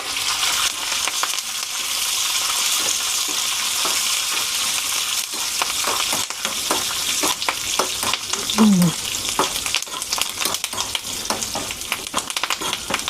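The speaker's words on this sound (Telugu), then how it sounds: "పోపు బాగా వేగిపోయింది కదా" Tempering spices frying in hot oil in a small pan for curd rice: a continuous close sizzle and crackle with scattered sharp pops and a brief metallic scrape midway, and no talking.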